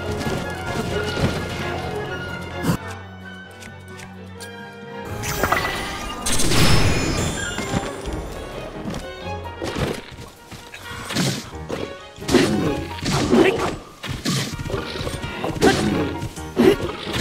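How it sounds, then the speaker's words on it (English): Explosions in the video game Zelda: Tears of the Kingdom, heard as several loud crashing blasts and whacks scattered unevenly through a busy game soundtrack, with a quieter stretch early on. "Explosion, explosion, explosion."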